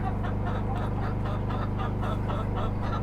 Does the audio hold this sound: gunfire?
no